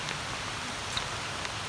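Steady rain falling, an even hiss of drops with a few faint individual patters, continuous and moderately quiet throughout.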